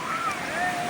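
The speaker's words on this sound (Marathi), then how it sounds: "आता लाटा आलेले आहेत" Steady broadband wash of ocean surf rolling in on the Konkan coast, with wind rushing over the microphone and a faint voice in the background.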